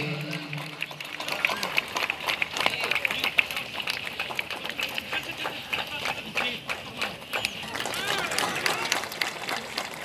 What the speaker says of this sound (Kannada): ನಿರಂತರವಾಗಿ ಚಪ್ಪಾಳೆಗಳು ಬರ್ತಾ ಇರಲಿ